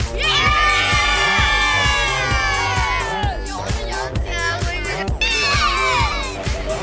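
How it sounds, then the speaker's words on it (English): A crowd of children at a birthday party shrieking and cheering together over loud, pounding dance music, sustained and energetic throughout with a second burst of high screams near the end. "And now raise your hands and scream."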